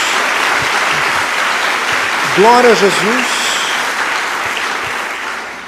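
A congregation in church claps steadily in a full, continuous burst of applause, with a voice calling out a short phrase in the middle.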